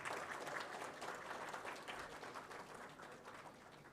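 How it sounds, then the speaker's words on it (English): An audience at a maritime ceremony applauds two departing committee members, sustained dense clapping that holds steady before gradually easing off. "Big round of applause for both of them."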